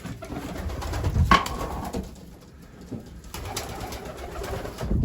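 Racing pigeons coo softly in a loft of breeders and young birds, a continuous low murmur with a sharp clatter near the start, no one speaking.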